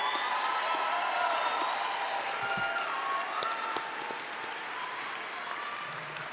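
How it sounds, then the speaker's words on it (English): Graduation commencement audience applauding, a broad sustained wash of clapping from a large crowd that gradually eases off slightly toward the end. "Let's give one last round of applause for our graduating CWU students of"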